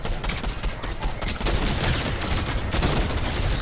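Rapid automatic gunfire in a video game, dense bursts of shots aimed at the player, loud and continuous with no talk over it.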